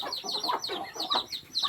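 Newly hatched chicks and a hen: a close, busy run of rapid, high, thin peeps and soft clucks, repeating without pause and with no talk.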